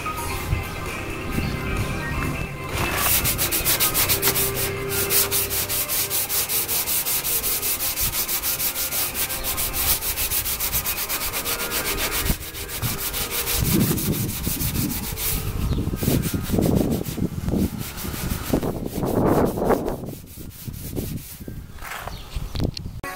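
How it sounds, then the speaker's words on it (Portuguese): Hand sanding on the body of a Chevrolet Monza car: a loud, continuous, close scraping rub with rhythmic back-and-forth strokes that carry on for the whole stretch, getting more uneven toward the end. "Deixa eu lixar agora aqui."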